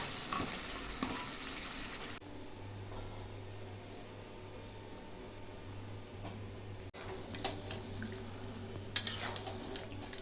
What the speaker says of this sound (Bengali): এখন আমি ঘুগনি মটরটা দিয়ে দিচ্ছি মশলার মধ্যে